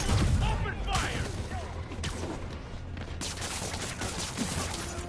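Bursts of gunfire in Marvel's Spider-Man on PS4, a dense rattling volley that stays steady throughout, mixed with voices talking underneath.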